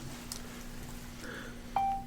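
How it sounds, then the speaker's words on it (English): A phone notification gives a single short clean beep near the end, over a faint low electrical hum and quiet room background. "Sorry, my phone decided to talk to me."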